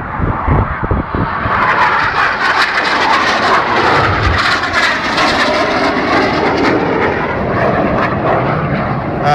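Red Arrows jets roaring overhead in formation during a barrel-roll display at the 2009 Perth airshow in Scotland, a loud, sustained jet rush that swells and holds steady throughout with no talking.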